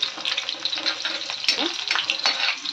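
Curry leaves and onion frying in hot oil with garlic, giving a steady close sizzle with occasional stirring scrapes and brief bursts of spitting.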